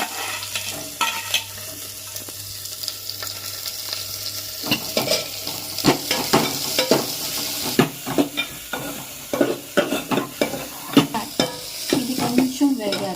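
Garlic and onions sizzle in a pan while a spoon scrapes and stirs in quick, uneven strokes, close and loud. A low steady hum sits beneath the first few seconds.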